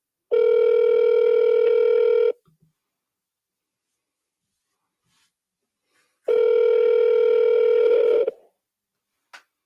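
Two long steady electronic beep tones from a phone voicemail system, each about two seconds and separated by a silent gap, clean and loud with no speech over them.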